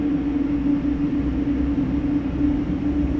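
Airbus A220 jet engines in a flight simulator: a steady, loud low-pitched hum with a strong tonal drone and rumbling body, holding constant throughout with no talking.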